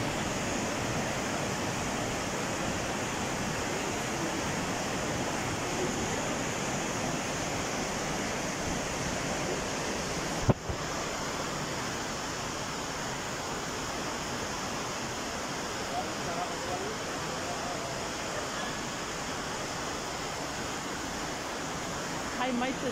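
Steady broadband rush of a mountain waterfall fed by snowmelt in Bursa, Turkey, continuous and close with no break, with a brief knock partway through.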